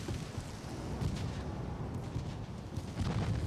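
Naval gunfire from warships in the game Ultimate Admiral: Dreadnoughts, including 4-inch guns, forms a dense, continuous rumbling barrage of distant booms that swells and rolls with no clear gaps between shots.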